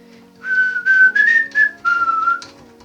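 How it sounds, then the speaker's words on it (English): A person whistles a tune on a workbench while working on an Xbox 360, clear melodic phrases broken by short pauses, alone with no talk. "Why am I whistling it?"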